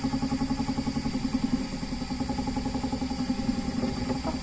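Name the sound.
electric spinning wheel (e-spinner) plying yarn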